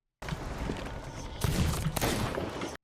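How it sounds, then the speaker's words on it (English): Gunfire from a pistol or blunderbuss in the pirate game Sea of Thieves, a couple of sharp loud bursts over steady in-game background noise during a close fight. "He just shot at me with his other weapon and missed"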